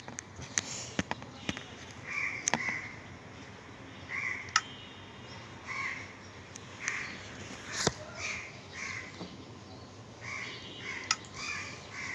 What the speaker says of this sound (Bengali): বাইরে কাক ডাকে